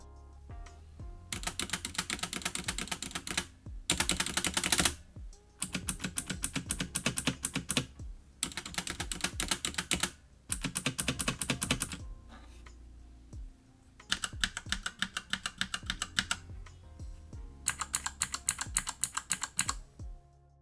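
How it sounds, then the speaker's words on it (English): Rapid mechanical keyboard typing on a Gamdias Hermes E1B gaming keyboard comes in several bursts of fast, clacky keystrokes, separated by short pauses, close and crisp. "Here is quick test compared to my HyperX Alloy with Cherry MX Red switches."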